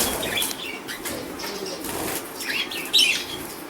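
Budgies flapping their wings inside a cage, repeated bursts of close fluttering mixed with bright chirps and tweets, loud and busy throughout.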